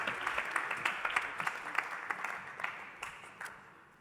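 Audience applause at a startup ecosystem presentation evening in Occitanie, a dense patter of many hands clapping steadily and gradually thinning out.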